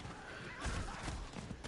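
Horse in Diablo IV neighing with hooves clopping, a short whinny and thudding steps under steady game ambience, moderately quiet.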